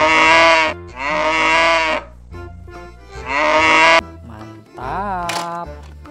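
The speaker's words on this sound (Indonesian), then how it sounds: "Kerbau." A water buffalo gives loud, drawn-out bellowing calls, several long moaning notes about a second each with short gaps, close and prominent with a low background hum.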